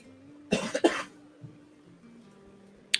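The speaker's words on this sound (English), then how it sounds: "I'm going to cough again." Two quick, close coughs in a row, then quiet room noise with a faint click at the end.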